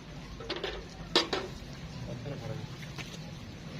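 A metal milking pail clanks and rattles briefly as it is handled beside a Frisian–Sahiwal cross cow at a sale in Pakistan, with one sharp clank near the middle amid voices and farmyard noise.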